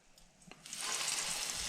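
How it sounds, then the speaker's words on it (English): Breaded chicken goes into a pan of hot oil and breaks into loud, bright, crackling sizzle after a soft clunk, building within a second and holding steady up close. "Beautiful sizzle."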